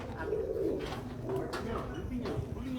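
Male pigeons cooing on a rooftop in Amra Kalan, Punjab, soft repeated low coos close by over a steady outdoor background.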